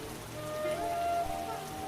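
Steady rain falls in a dense, even hiss in a village fishing scene, with a faint sustained musical tone drifting over it and no talking.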